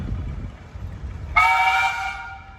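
A steam traction engine's whistle at a threshers' steam show sounds one loud, steady multi-tone blast of a bit over a second, rising out of low outdoor rumble and then fading away.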